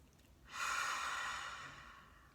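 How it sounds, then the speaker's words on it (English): A single long, breathy lion's breath yoga exhale with the tongue out, a soft, forceful huff that starts suddenly and then slowly fades away. "stick your tongue out, and I want to hear your big lion's breath"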